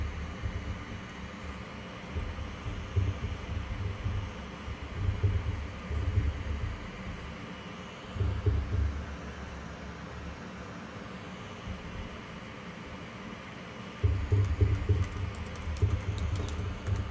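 Steady clicking keystrokes on a computer keyboard come in short irregular bursts over a faint constant hum, quiet and close, with no talking.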